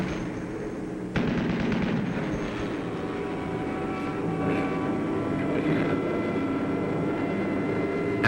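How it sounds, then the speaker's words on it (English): A German fighter plane makes a pass at a low squadron of B-17 bombers over Germany in 1945 combat footage, a sustained roaring engine drone with rattling gunfire bursts and flak thumps, a sharp jump in loudness near the start. "the final Hun fighter makes a pass at the low squadron"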